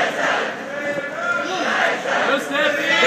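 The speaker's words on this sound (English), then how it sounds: "This is a loud crowd trying to compete" Loud crowd at a cannabis freedom march in Seattle's Westlake Park, with a dense roar of many voices and shouting that stays close and steady, with no break.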